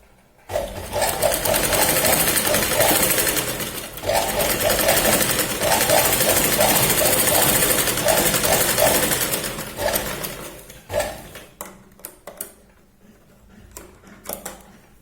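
A sewing machine runs loud and close in two long bursts of rapid stitching on a katori blouse, pausing briefly between them, then trails off into intermittent short whirs and clicks.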